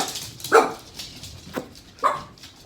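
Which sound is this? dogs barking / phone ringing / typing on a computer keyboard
dogs barking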